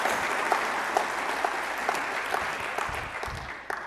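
An audience at a data-visualization tech talk claps steadily, a dense, even wash of many hands that holds throughout and tapers slightly at the end, with a couple of distinct nearby claps.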